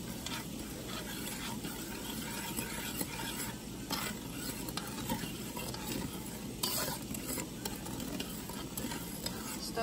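A coconut mixture with salt is stirred in a pot for Vietnamese banana steamed pie, giving a continuous soft scraping and bubbling texture with occasional light utensil clinks against the pot.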